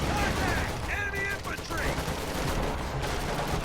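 High-explosive artillery barrage in Company of Heroes 2, a dense roar of continuous rumbling blasts and crackling impacts filling the whole stretch, with no pauses.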